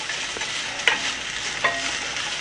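Ground coriander powder being stirred into a hot frying pan, a steady close sizzle with two sharper scrape-and-stir accents, no voices.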